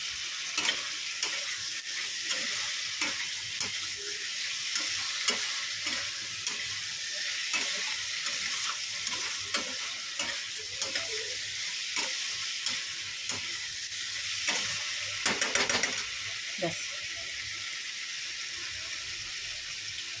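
Oil sizzling in a pan during home cooking, a steady hiss running throughout with stirring clinks and scrapes scattered across it, a brief louder flare near the end.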